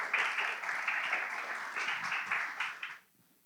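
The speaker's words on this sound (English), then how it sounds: "Please give a warm round of applause for Dr. Ramirez as he comes" A conference audience gives a short round of applause for a speaker, dense clapping lasting about three seconds before fading out.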